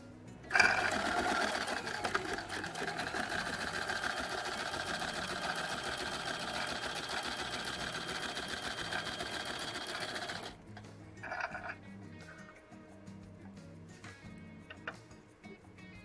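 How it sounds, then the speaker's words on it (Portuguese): A sewing machine runs a continuous fast whirring stitch along the bottom seam of a fabric organizer for about ten seconds, then stops, followed by a short second burst and quiet handling noises. "agora eu vou fazer uma costura no fundo"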